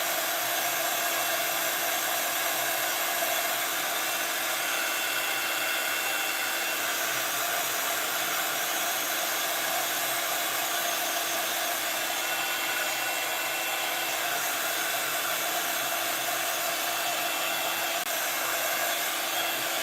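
A heat tool blows continuously over a handmade pop-up card, a loud, close, steady hissing roar lasting the whole stretch without pause or talk.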